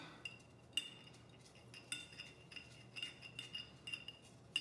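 Paper draw entries are stirred around in a container, giving faint, close rustling with light clinks and taps at an uneven rhythm in a quiet room.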